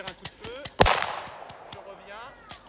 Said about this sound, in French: Je tire un coup de feu, ça augmente la motivation du chien